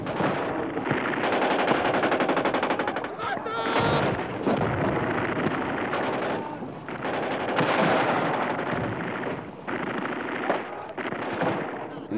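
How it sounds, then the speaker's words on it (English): Sustained machine-gun fire from the 1973 Yom Kippur War, during the Egyptian army's crossing, rattles on in loud, dense bursts almost without a break, layered with other battlefield noise. "it was a machine gun"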